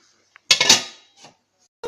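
A single sharp metallic clank of a lid set onto a saucepan of green beans with tomatoes and onions, ringing briefly, followed by a softer clink and quiet.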